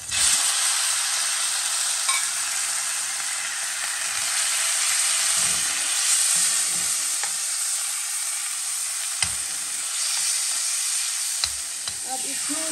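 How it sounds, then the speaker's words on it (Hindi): Chicken pieces frying in hot oil in a home kitchen pan give a dense, steady sizzle and crackle, with occasional stirring scrapes and clinks, close and continuous. "इसको करेंगे फ्राई।"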